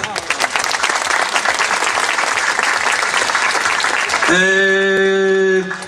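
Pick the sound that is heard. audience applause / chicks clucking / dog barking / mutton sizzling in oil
audience applause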